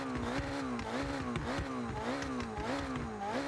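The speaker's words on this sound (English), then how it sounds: "That sounds like the Ferrari engine." A Ferrari V12 engine from an Italian car pack in Forza Horizon revs steadily, a loud continuous tone rising and falling in pitch in repeated waves with no talk.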